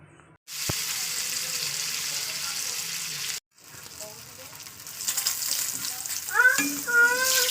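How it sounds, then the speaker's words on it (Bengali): Fish rubbed with salt and turmeric hits hot oil, setting off a loud, close sizzle that cuts out briefly and then resumes as a continuing crackling fry, with voices joining faintly in the background. "তেলটা গরম হয়ে গেছে, এবার দিয়ে দেবো মাছটাকে।"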